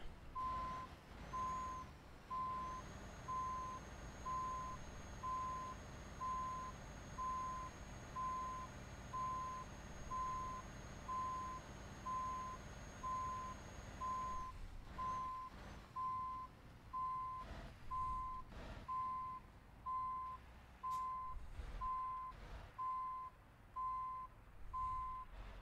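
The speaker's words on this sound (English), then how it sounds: "now we can back up our truck and our tank" A truck towing a Chieftain tank in Euro Truck Simulator 2 sounds its reversing alarm while backing up: a steady, evenly spaced string of loud beeps runs throughout over a low engine rumble.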